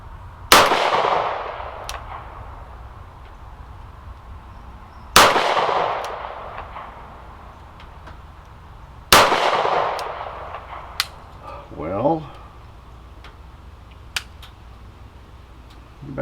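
Shots from a Kimber KDS9c pistol ring off steel plates at an outdoor range: three sharp, loud cracks several seconds apart, each with a metallic clang and a decaying ring, then a fainter knock near the end.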